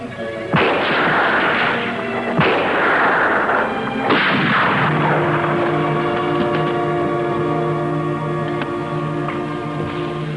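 Three loud gunshots from a rifle-type gun ring out in a 1950s jungle adventure scene, each blast with a long echoing tail, followed by a sustained steady tone and hum.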